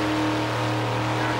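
Burnout car at the 1989 Summernats Burnout Competition, its engine fed by a big 671 GM blower, holding a loud, steady, droning roar with strong low harmonics throughout, no talking.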